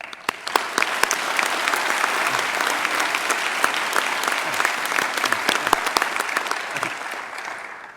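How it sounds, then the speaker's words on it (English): A crowd applauds at a police academy graduation ceremony, with dense, lively clapping that holds steady for several seconds and then begins to taper off. "How about one more applause for him?"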